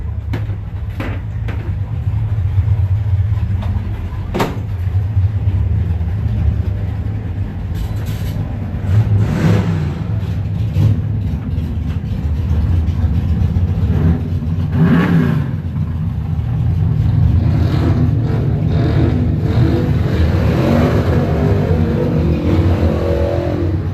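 Race cars at the 12th Annual Mulligan drag race, Pro Trophy round one, with a Cutlass among the entrants; steady loud engine roar and revving throughout, swelling in bursts, no talk.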